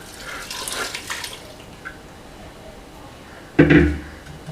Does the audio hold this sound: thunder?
no